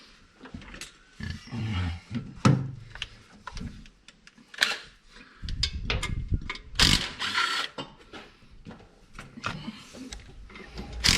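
Socket wrench ratcheting in short bursts of clicks during clutch repair work on a Ford Transit van, mixed with clanks of tools and handling noise in a workshop, with brief talk now and then.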